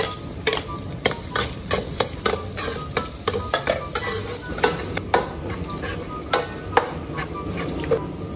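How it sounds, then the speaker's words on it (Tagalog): Onions frying in a hot pan while being stirred, a steady sizzle broken by a quick series of sharp utensil scrapes and clinks against the metal, close and fairly loud. "Golden brown na, mix natin yung sibuyas."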